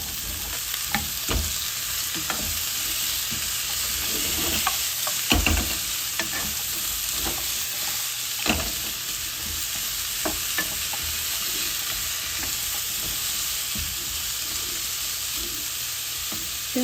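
Chopped sayote (chayote) sautés in a hot pan, a continuous sizzle broken by repeated scraping and clattering stirs from a utensil, close and steady with no talking.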